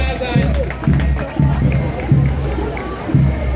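A crowd applauds and cheers a Trachtengruppe from Schrecksbach in folk costume carrying a Schleifenbaum (ribbon tree) during the 1200-year anniversary festival parade in Bad Zwesten. The applause swells and eases while regular low thumps pulse underneath.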